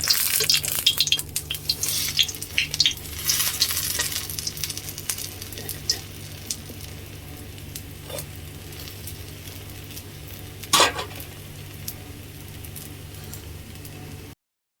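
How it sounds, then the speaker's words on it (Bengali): Beguni, eggplant slices in gram flour batter, frying in hot oil, a loud, busy sizzle with stirring clatter at first that settles into a quieter, steady bubbling hiss, with one sharp clink near the end. "দেন বাড়িতে এসে একটু বেসন অল্পই ছিল, সেটা দিয়েই কোনো রকমে আমি একটু বেগুনি বানালাম"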